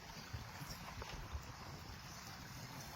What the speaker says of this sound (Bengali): জলে প্রচন্ড স্রোত বইছে